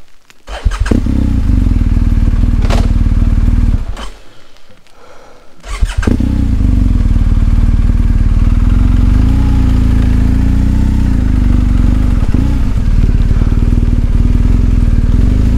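Motorcycle engine idling steadily during a recovery on a Swedish TET trail, loud and close, dropping out briefly near the start before running on unbroken to the end.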